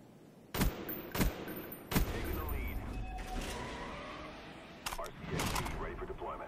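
Commando assault rifle firing in a video game, a few sharp separate shots standing out over a dense, busy game mix with rumbling engine-like noise and mechanical clatter; some background voice activity.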